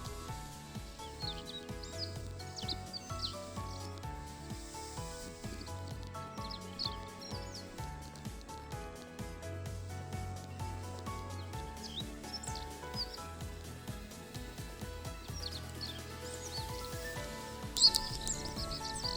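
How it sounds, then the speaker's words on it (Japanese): A Siberian rubythroat sings in Hokkaido in short, repeated high warbled phrases at moderate distance, alongside other birdsong and a steady rhythmic background. "せっかくなのでノゴマの鳴き声も少し聞いてみましょう。"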